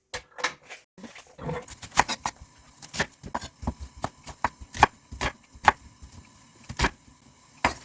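Knife cutting half an onion into thick pieces on a board for Andong jjimdak, a series of sharp, irregular chops and taps, fairly close and distinct, with no talk.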